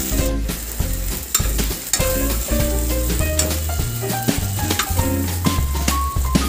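Prawns fry in a pan, giving a continuous sizzling hiss that runs under tuneful background music.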